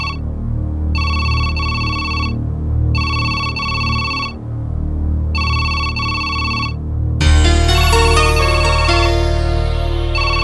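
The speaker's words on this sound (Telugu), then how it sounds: "ఫోన్ రింగ్ అవుతుంది." A phone ringtone rings in repeated rhythmic bursts of bright electronic tones with brief gaps, then gives way to a louder burst of dramatic film music.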